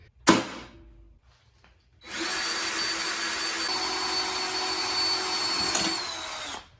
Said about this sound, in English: I just got to drill the pin out.